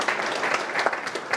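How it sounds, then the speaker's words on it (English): A burst of crowd applause at the National Press Club, dense and steady clapping from many people throughout. "It's worth a round of applause."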